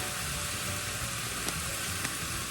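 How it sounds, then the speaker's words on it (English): Ground beef and onions sizzling in a pan on a home stove, a constant loud hiss and crackle with a couple of faint clicks, no talking over it. "While that beef sizzles."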